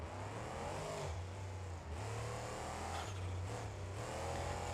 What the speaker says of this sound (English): You can probably also hear that the twin turbos have their brand new sounds